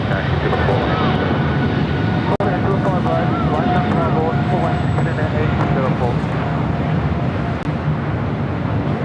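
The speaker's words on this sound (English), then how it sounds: "Looks like a south side takeoff for this one as well." Airplane taking off from a south side runway at LAX, a steady loud roar of jet engine noise filling the whole stretch, with radio chatter and voices running underneath.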